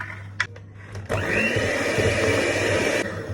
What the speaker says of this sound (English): you're just going to use your electric mixer once again and just mix all that until it's completely combined